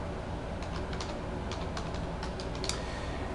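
Keys clatter on a computer keyboard as a registration form is filled in, a series of light, irregular taps spread over a few seconds against faint steady background noise.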